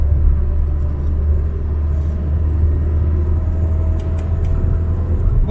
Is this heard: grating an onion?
no